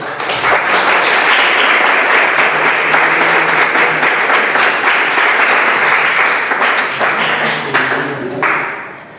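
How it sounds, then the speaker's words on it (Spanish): Church congregation applauding during a Sunday worship service, a dense, sustained wash of clapping from many hands that fills the room for about eight seconds before tapering off at the end. "Incluso puede darle un aplauso al Señor"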